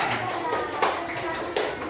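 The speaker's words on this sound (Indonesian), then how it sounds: "Silakan tepuk tangan untuk kelompok 2" Students in an Indonesian classroom clap for a presenting group, a soft, brief patter of hands heard faintly beneath ongoing voices and room chatter.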